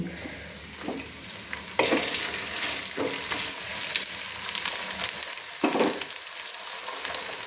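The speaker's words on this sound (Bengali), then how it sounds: "ভালো করে একটু ভেজে নিচ্ছি চালটাকে আমি প্রায় দু তিন মিনিট একটু ভেজে নিচ্ছি তেলের মধ্যে ভেজে নিচ্ছি" Rice fries in oil over a medium flame with a continuous close sizzle and occasional stirring scrapes and spoon knocks, without any talk, for several seconds.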